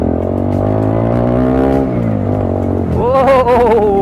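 A modified Bajaj Dominar 250 motorcycle exhaust idles with a loud, deep, steady burble, then revs sharply upward near the end and rasps as it climbs, heard up close.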